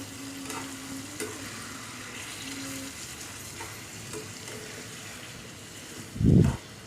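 Chicken pieces frying and being stirred in a pan for a simple chicken gravy, a steady close sizzle broken by occasional scraping stir strokes and a louder clatter near the end.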